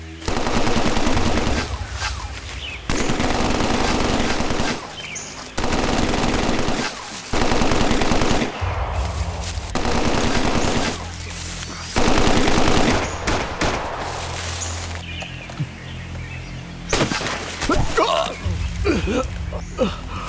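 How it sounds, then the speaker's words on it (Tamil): Bursts of machine gun fire from an action thriller, loud and close, coming in several sustained volleys separated by short gaps, with voices and other movie sounds between. "அதோ அவன் அங்க இருக்கான். சுடுங்க அவனை."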